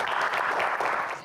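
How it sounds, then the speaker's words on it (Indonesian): Brief audience applause at the close of an evening Q&A episode, a short wash of steady clapping from a group that tapers slightly at the end. "Tepuk tangan untuk kita semua malam hari ini."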